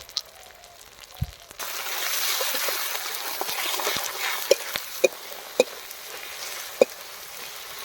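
Spices fry lightly in a pan as salt and turmeric are added, a steady soft sizzle running throughout with a few sharp clicks and taps from stirring or utensils on top.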